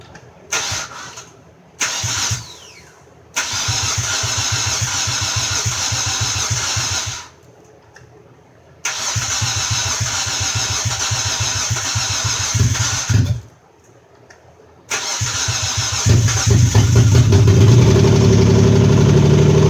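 A 2008 Hyundai Santa Fe with a replacement engine cranking and starting several times, each attempt a loud, steady engine run broken by short silences, finally catching and revving up near the end.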